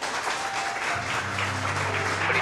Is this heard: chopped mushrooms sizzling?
no